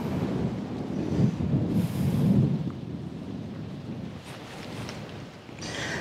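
Wind buffeting a microphone outdoors at a fishery on Kauai, a low, rumbling gusty roar that swells and eases throughout, with no talking.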